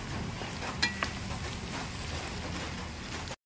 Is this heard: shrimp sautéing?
yes